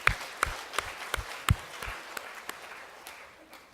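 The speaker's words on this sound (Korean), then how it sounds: "우리 박수 한번 하겠습니다" Applause from a church congregation during a Sunday service, sparse and uneven, with distinct individual claps ringing out over a faint background and gradually fading.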